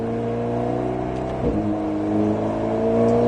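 An Alpine A110S engine hums steadily from inside the car on the Nogaro race track, a droning note that wavers briefly mid-clip and then climbs gently as the throttle opens.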